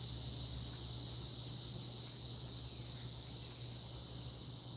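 Insects chirp in a dense, continuous high-pitched drone outdoors on a Southern night, with a steady low hum underneath and the chorus fading slightly toward the end.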